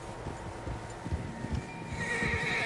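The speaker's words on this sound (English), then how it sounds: "Horses, quite a few of them." Several horses in Red Dead Redemption 2 whinny and clop their hooves over a steady outdoor ambience, with the hoofbeats irregular and close.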